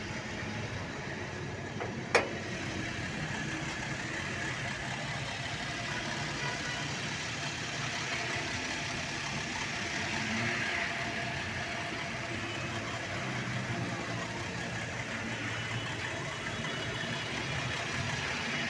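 Car engine idling at a dealership, a steady mid-low hum lasting the whole time with one sharp click early on and no talking.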